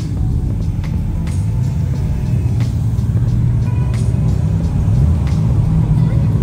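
JDM cars at a Sydney car meet give off a low, constant engine rumble nearby, with faint talk mixed in under the idling noise.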